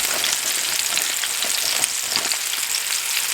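Stew meat browning in a hot pan, a steady dense sizzle and crackle of frying held at an even level throughout, close and alone with no voices.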